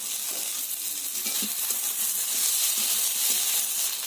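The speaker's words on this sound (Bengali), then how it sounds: "টমেটোটা দিয়ে আলুগুলো ভালো করে ভেজে নেব" Potatoes frying with melted tomato and soaked chickpeas in a pan give a steady close sizzle, with soft stirring scrapes running underneath throughout.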